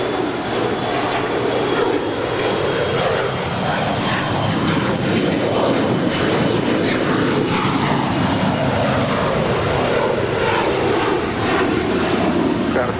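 A fixed-wing airliner takes off from runway 25 right at LAX, its engines producing a loud, continuous roar that swells and shifts throughout.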